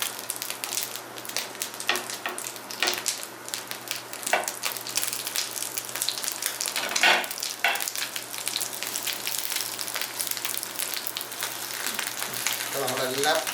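Fish sizzling in hot oil with curry leaves in a pan, a loud, steady frying hiss with occasional crackles and pops throughout.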